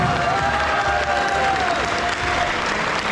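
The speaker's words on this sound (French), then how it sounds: "on les applaudit aussi bien fort" A festival audience in a French debate setting claps loudly and continuously throughout, a dense, sustained round of applause.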